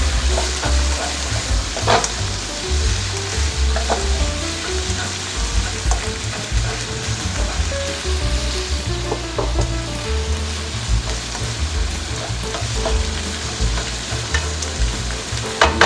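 Mushrooms stir-fry in a hot pan, a dense continuous sizzle with a low rumble beneath and occasional scraping of the stirring utensil, loud and close with nobody talking.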